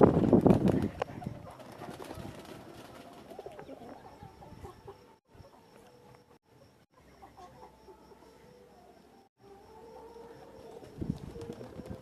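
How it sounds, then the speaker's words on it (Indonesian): Racing pigeon cooing in soft, repeated low calls, with a louder burst at the start and end and quiet rustling between. "Ini adalah merpati balap."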